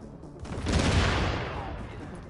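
A gunshot in the video game The Division, a single burst that swells into a broad, booming roar and then fades slowly, fairly loud and close.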